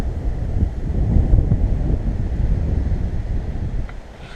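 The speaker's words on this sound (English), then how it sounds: "So it is quite windy." Gusty wind roars across the microphone on a cycling tour in Taiwan, a loud, low, buffeting rush that swells and fades in uneven waves, with no talk.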